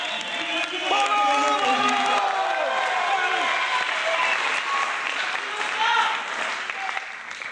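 A large indoor audience breaks into sustained applause with cheering and whoops, steady and dense throughout, while voices call out over the clapping.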